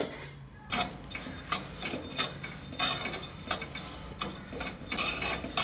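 Chana dal is roasted in hot salt in a pan, giving a steady dry rasping and scraping with a rhythmic swish at each stir, close by and fairly quiet.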